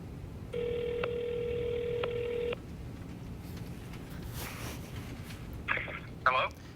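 A backup phone placing a call during live tornado coverage: a steady dial or ring tone for about two seconds broken by short clicks, then a quiet pause, with brief voice bursts near the end.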